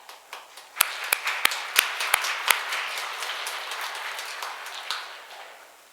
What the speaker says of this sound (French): je vous invite à applaudir le Seigneur pour ce grand geste d'amour avec un bravo